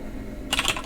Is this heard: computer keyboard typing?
yes